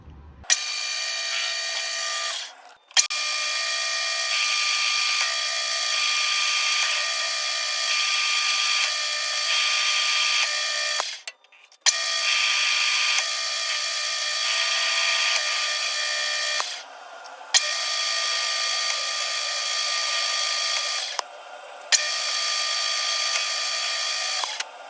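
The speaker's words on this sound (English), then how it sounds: "We're just going to use a spot drill. These cuts flutes at about a 35-degree angle. We'll just spin it in on the tailstock and get it crowned." A lathe spinning a spot drill held in the tailstock to crown a Ruger MK IV Target pistol barrel; a high, steady whine in repeated runs of several seconds, separated by brief pauses, close and fairly loud.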